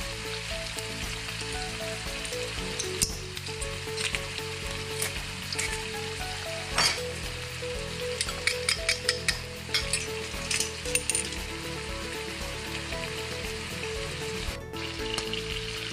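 Vegetables frying in a pan give a continuous close sizzle, with occasional light clinks of a utensil against the pan and no speech.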